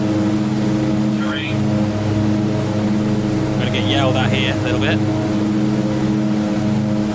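A Twin Otter floatplane engine in Microsoft Flight Simulator drones with a loud, steady, tonal hum that never lets up, while someone talks over it and a few short whistling tones come and go.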